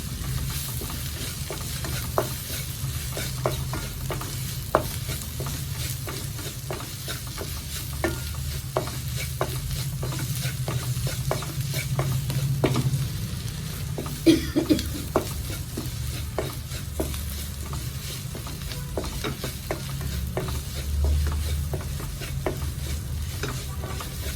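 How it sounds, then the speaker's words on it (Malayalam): Masala spice powder fries in a pan for soya chunks pirattu, giving a steady soft sizzle with repeated scraping stir strokes throughout and no talk. "ഈ പച്ചമണം പോണത് വരെ പൊടിയിലൊക്കെ പച്ചമണം പോണത് വരെ ഇളക്കി കൊടുക്കാം"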